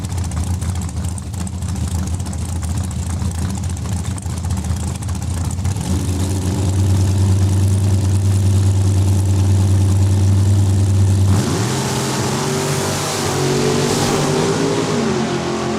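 Drag racing engines at a raceway, a Cuda door slammer and a dragster, roar loudly from a steady rumble into a heavy launch, with a second engine surge joining later.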